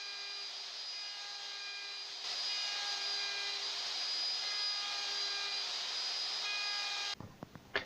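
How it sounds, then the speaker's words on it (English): A router cuts away wood on a guitar neck heel in successive passes, giving a steady, loud whining roar with a clear tonal pitch that holds for about seven seconds and then stops. A few clattering knocks follow. "I'm just going to route the wood away in successive passes"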